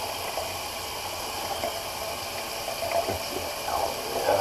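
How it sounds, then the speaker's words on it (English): Bathroom sink tap left running, a steady broadband rush of water with faint splashy variation, fairly constant and close, alone without voices. "left my sink run"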